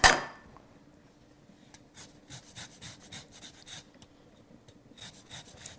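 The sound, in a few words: zesting limes on a grater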